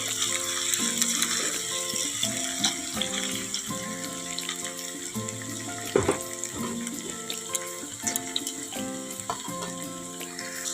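Cashews fry lightly in oil in a kadai for tempering, with a continuous soft crackle and hiss that runs beneath background music for the whole stretch.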